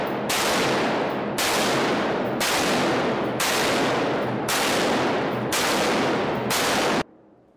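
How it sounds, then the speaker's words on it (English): An automatic rifle fires at a shooting range in seven loud sustained bursts of rapid shots, each about a second long with short gaps, ending abruptly in quiet. "demonstrates how powerful an automatic rifle is"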